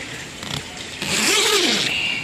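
A zipper is drawn in one long, smooth pull, close by, after a few soft rustles and scrapes.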